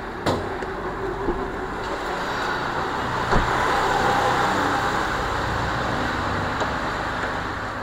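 A Toyota Premio G FEX car engine idles with a steady, even hum and a faint, continuous whir throughout, with no voices and only a couple of small clicks.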